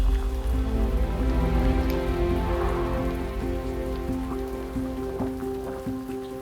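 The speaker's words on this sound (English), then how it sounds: "now it's chucking it down with rain" Heavy rain pours steadily onto surfaces outdoors along Hadrian's Wall, a dense, constant hiss with no voices.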